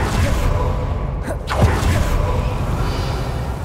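Revelio reveal spell cast in Hogwarts Legacy: a rising, swooshing shimmer sweeps upward over a steady low game ambience, followed by a soft resonant bloom, with no voices.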